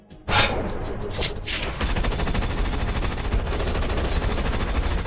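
A film scene erupts into loud, sustained machine gun fire, rapid bursts rattling continuously and dense with booming shots after a brief quiet start.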